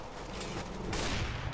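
Gunfire in Counter-Strike: Global Offensive during a deathmatch, a dense close burst of rapid shots that swells louder partway through, with no talk over it.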